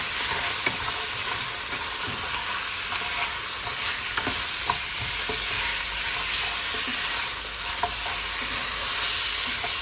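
Lamb stew stirred in a pot with salt mixed in: a continuous loud sizzle with soft scraping and knocking of the spoon, close up and without talk.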